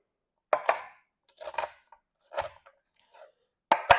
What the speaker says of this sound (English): So I'm going to put it together, turn it sideways, chop it.